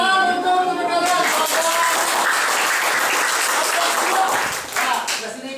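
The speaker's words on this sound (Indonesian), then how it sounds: "Tepuk tangan untuk teman kalian." Students in a high school economics classroom applaud classmates who come to the front: dense, sustained clapping filling the room for several seconds, with voices over it near the start, easing off toward the end.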